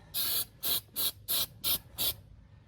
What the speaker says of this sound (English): I'm actually sealing all the way around the pinch weld, even though it's not leaking anywhere else.